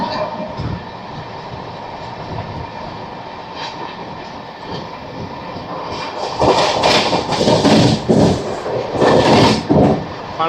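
An Amrit Bharat Express runs past Kavali station in a continuous, loud rumble of wheels and rail noise, swelling noticeably louder and harsher in the second half.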